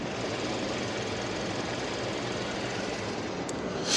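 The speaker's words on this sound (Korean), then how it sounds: "정숙한 엔진 소음 기대하실 수가 있는 차량입니다" A Kia K7 sedan engine idles with a steady, even hum that drones on without change, smooth and continuous, with a brief brighter noise near the end.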